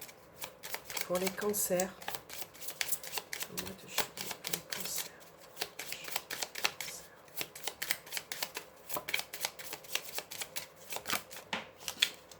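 Tarot cards being shuffled by hand during a July 2022 Cancer horoscope reading, a run of quick papery riffles and snaps close by, with someone speaking in French over and between them.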